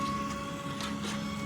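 A Prusa 3D printer runs steadily at close range, its stepper motors producing a continuous tonal whine with a few faint shifts in pitch and no voices.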